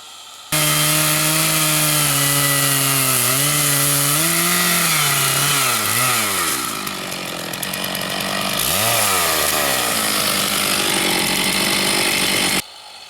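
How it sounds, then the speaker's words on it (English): A chainsaw making a boring cut into a log to remove mortise pieces for chainsaw-built furniture, its engine revving and bogging in waves as the bar plunges into the wood, loud and close, stopping abruptly at the end. "Boring cut to take out the mortise pieces"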